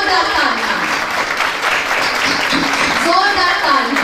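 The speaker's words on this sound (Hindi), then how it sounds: "जोरदार तालियां" Loud, dense applause from a church congregation at a women's meeting in Lahore, steady throughout with voices and a speaker audible over it.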